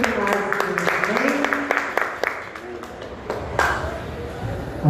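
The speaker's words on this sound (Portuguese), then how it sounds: "Uma salva de palmas para Jesus, porque Ele é muito demais" During an evening church service a congregation claps, a scattered patter of hands mixed with a voice talking over a microphone that rises and fades over a few seconds.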